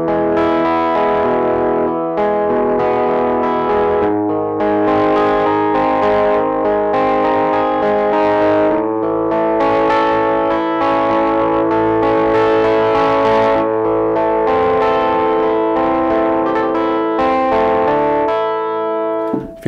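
A software guitar instrument finger-picks broken chords, one note at a time in a steady flowing rhythm through a chain of effects with distortion, chorus and slight echo, continuous and clear for about twenty seconds with no voices.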